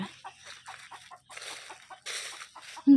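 Chickens clucking in short, scattered bursts at moderate distance, with a brief louder squawk right at the end.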